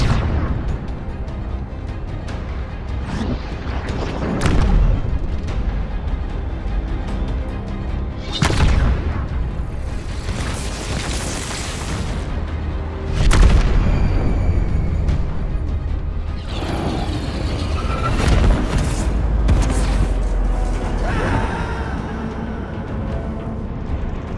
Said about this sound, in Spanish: Disparo del MAC y su impacto.